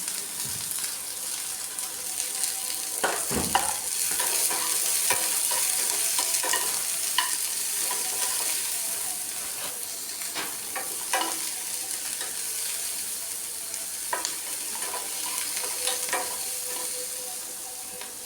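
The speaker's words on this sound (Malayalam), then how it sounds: "വെളിച്ചെണ്ണ ചൂടാകുമ്പോൾ നമുക്ക് സവാള ഇട്ട് കൊടുക്കാം." Onions frying in hot coconut oil and being stirred, a steady broad sizzle with intermittent scraping knocks of the utensil throughout, close and fairly loud, no voices.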